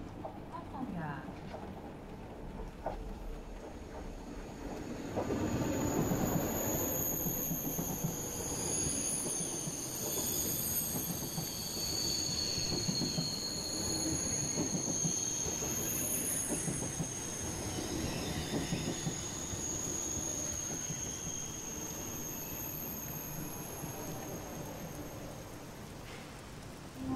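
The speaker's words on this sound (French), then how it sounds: "5323 en provenance de Nantes et à destination de Marseille-Saint-Charles. Départ initialement prévu à 17h10. Entre en gare." A TGV from Nantes bound for Marseille-Saint-Charles rolls into Lyon Part-Dieu station, its wheels squealing in long high-pitched tones above a low rumble across the platform, with a French station announcement over the station ambience.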